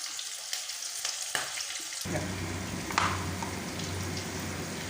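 Turmeric goes into hot oil for a fish curry, and after a quieter start a fuller frying sizzle swells up about two seconds in and holds steady and close to the end, with no talk.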